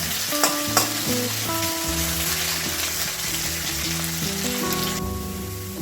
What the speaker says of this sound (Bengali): আমি আলুটাকে ভালো করে ভেজে নেব